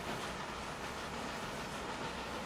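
A train on a circle line in the game Transport Fever rumbles past with a steady, dense rolling roar that holds constant for a couple of seconds, and no voices.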